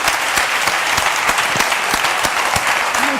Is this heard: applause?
yes